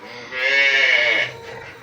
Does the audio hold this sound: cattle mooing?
yes